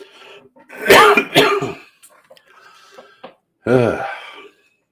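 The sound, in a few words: cough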